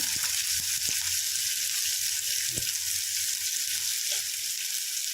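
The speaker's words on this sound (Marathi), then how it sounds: "आता तेलामध्ये पण कांदा दोन मिनिटातच फ्राय करून घ्यायचा" Onion frying in a couple of spoons of oil in a pan for a sprouted matki rassa curry, a steady hissing sizzle throughout with a few soft clinks and stirring knocks.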